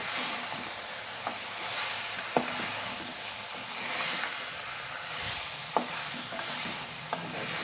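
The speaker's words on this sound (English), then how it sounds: "Add it, saute it well and leave it to cook for at least 15 to 20 minutes" Chicken sautéing in a pan with turmeric, salt and lemon gives a steady soft sizzle and hiss, broken by occasional scrapes and clicks of stirring, with no talk.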